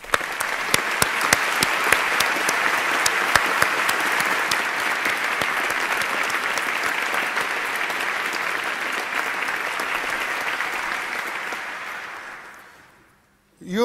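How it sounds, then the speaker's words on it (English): Sustained applause from a graduation ceremony audience at the University of Edinburgh, dense and steady for about twelve seconds before fading out near the end, with a few sharper individual claps early on. "please join me in applauding the supporters who for various reasons are unable to be here in person today"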